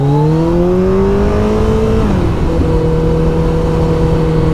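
A Kawasaki ZZR1400 sport bike engine revs up loud and close, its pitch climbing steadily before it shifts and settles into a lower, sustained drone, with wind noise underneath and no talk.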